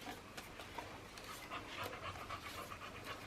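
A dog pants rapidly and steadily at a door indoors, close and fairly quiet, with no talk over it.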